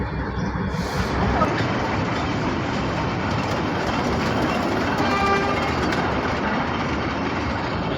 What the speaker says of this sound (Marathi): माथेरानची ट्रेन बघा